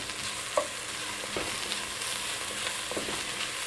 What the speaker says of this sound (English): put my 4 cloves of garlic down in there